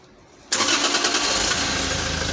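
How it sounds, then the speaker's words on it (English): A car engine cranks and catches after a short quiet lead-in, then settles into a loud, steady idle right up close, ready for a scan-tool injector cut-out test. "I'm gonna start the engine."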